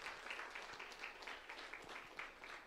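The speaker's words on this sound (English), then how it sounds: "A big round of applause" Audience applause at a business network chapter launch event in Bangalore, a fairly faint, steady patter of many hands clapping at a distance throughout.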